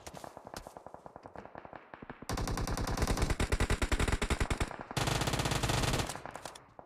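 Rapid automatic gunfire from PUBG Mobile rattles in dense bursts, starting with lighter spaced shots, then two long loud sustained volleys that stop abruptly, with no talk over them.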